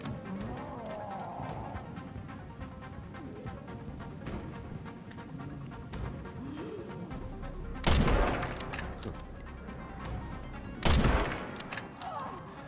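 Gunfire in the survival-horror game Resident Evil 9: a steady low rumble of game ambience with occasional faint shots, then two loud, sharp blasts about three seconds apart near the end.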